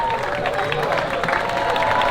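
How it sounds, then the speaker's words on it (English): A large crowd at the opening of Mickey and Minnie's Runaway Railway at Walt Disney World cheers and claps continuously, a dense wash of voices and applause with some talk mixed in. "They're all out. They're cheering."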